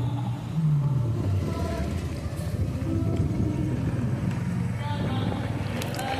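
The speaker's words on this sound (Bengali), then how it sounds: "আমরা যাচ্ছি মোটর সাইকেলে করে।" A motorcycle is ridden through city streets at night during Durga Puja, with a steady engine rumble and road noise throughout, a brief rising engine tone early on and faint voices underneath.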